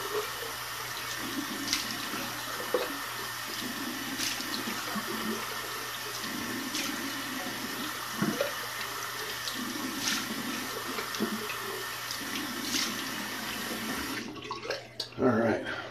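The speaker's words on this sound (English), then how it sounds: "it's cold water rinse" Cold water runs steadily from a tap during a rinse after a shave, a constant hiss with faint clinks and handling sounds, stopping near the end.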